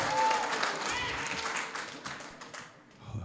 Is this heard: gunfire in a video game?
no